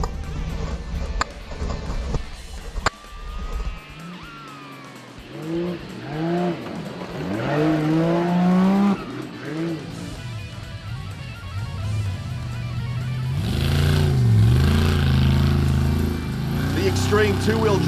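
Extreme two-wheel drive rally cars race at the ARB Griffith 400, engines revving and rising in pitch as they pass close by, with tyres scrabbling on the surface and a commentator talking over the engine noise.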